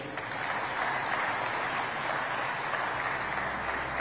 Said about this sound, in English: I know you have 20 seconds of applause left in you.